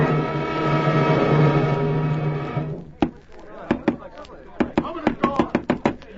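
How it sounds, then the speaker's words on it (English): Heavy pounding on a door in a 1940s radio mystery drama: a voice speaks over a low hum at first, then a series of loud, sharp, irregular thuds land close by, several in quick bursts. "What's that pounding?"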